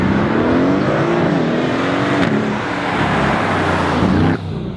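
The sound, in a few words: Mercedes AMG GLC 63S Coupe V8 engine and exhaust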